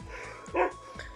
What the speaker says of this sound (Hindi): कुत्ता हमको देख के भौंक रहा है